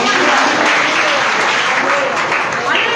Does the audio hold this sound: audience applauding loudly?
yes